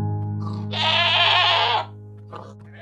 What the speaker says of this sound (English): The only difference between an ordinary and a screaming goat is the noise the screaming goat makes.